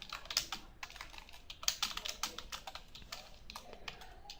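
Rapid typing on a computer keyboard, a quick irregular run of crisp key clicks close up and fairly quiet, with no talk over it.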